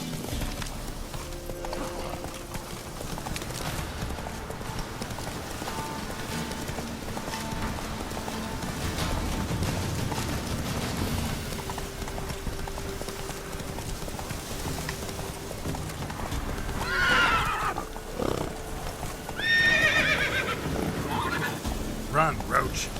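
In the Witcher 3 video game, a horse gallops in steady clip-clop hoofbeats, then neighs a couple of times near the end, with a voice and game ambience mixed underneath.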